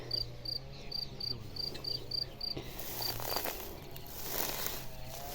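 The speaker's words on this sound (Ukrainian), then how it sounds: "Чуєте, цвіркун співає." A cricket chirps in steady, evenly spaced high pulses over a soft outdoor hiss in a vegetable garden, fairly faint and continuous with no talking.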